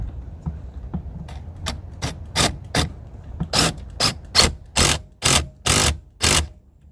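Ratcheting a bolt back in on a 1996 Ford Explorer after seat belt repair, a series of sharp clicking strokes that grow louder and longer toward the end, close and without talk.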